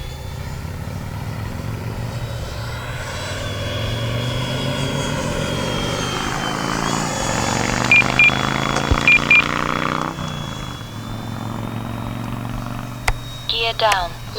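A Freewing F-22 Raptor RC jet flies overhead, its ducted-fan engine a steady loud whine and roar that swells and shifts in pitch as it passes, with voices talking alongside and a few sharp clicks near the end.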